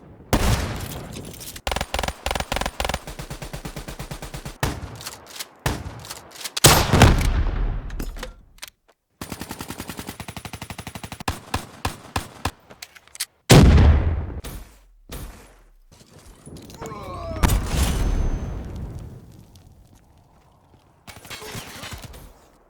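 Weapon fire from Black Ops 3 Zombies comes in rapid automatic bursts and heavy single booming shots, some with ringing tails, loud and separated by brief silences.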